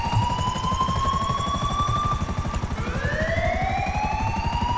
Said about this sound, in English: I'm still in a stealth helicopter.